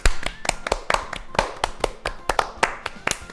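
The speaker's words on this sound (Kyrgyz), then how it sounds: "Кол чабалар." A group of people clap their hands together in a quick, uneven burst of sharp slaps, close and fairly loud, lasting a few seconds without anyone speaking.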